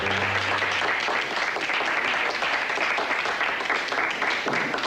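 A room full of people applauding an engagement, dense steady clapping that carries on throughout at a loud, close level.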